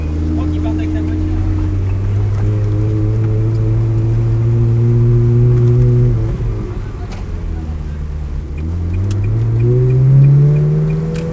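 A car drives off in a classic-car convoy behind a McLaren, its engine droning loudly close by as it accelerates steadily, shifts, then climbs again.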